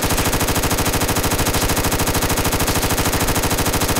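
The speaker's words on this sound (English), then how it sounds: "I'm gonna shoot off 100 rounds for you." AK5C rifle emptying a 100-round magazine in Fallout 4, a loud, unbroken stream of fast, evenly spaced automatic shots running from start to finish.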